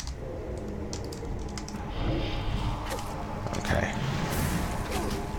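Fingers type steadily on a computer keyboard during a World of Warcraft session, producing a fast, continuous run of close, crisp key clicks with slightly louder bursts in the second half.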